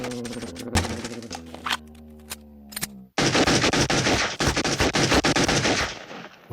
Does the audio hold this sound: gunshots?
yes